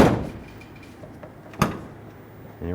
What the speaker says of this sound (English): Go ahead and test the rear door